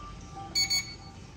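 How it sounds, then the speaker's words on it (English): Rubik RB30EV safe box beeping after its reset button is pressed: two short, bright electronic beeps in quick succession, close and clear over a quiet room. "When you hear the beep, you will find this light on."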